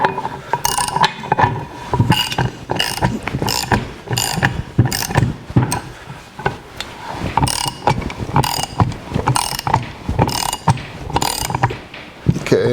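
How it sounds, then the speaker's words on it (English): A ratchet wrench clicks in repeated strokes as a steel screw-in bushing is tightened on a 1964 Chevrolet C10 pickup, each burst of pawl clicking followed by a short pause, close up and fairly loud, with no talking. "And I tighten it all the way down."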